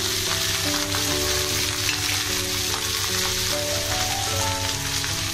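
Spices and cumin powder sizzle steadily in hot oil for a Bengali fish shukto, a continuous close frying hiss with faint stirring clicks and no speech.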